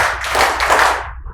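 Center-row audience at a hospitality conference session responding to a call for three claps with a short, loud, close burst of group clapping that quickly dies away.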